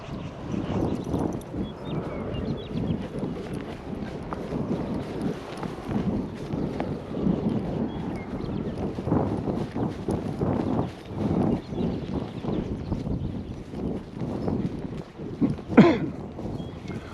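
Horses being led home in the morning, hooves clopping in an irregular walking rhythm close by, with wind buffeting the microphone throughout.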